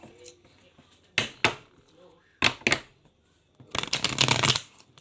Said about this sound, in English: Last ripple shuffle.